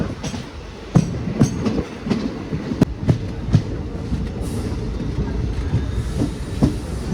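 A Nilambur–Palakkad passenger train runs on the rails, heard from on board as a steady rumble with irregular sharp clicks and thumps of wheels crossing rail joints.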